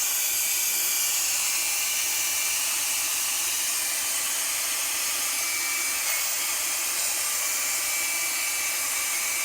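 A GOOLOO F1 160,000 RPM compressed air gun runs steadily as a vacuum, sucking up thick-gauge wire, giving a loud, continuous high-pitched whooshing hiss with no pauses and no talk.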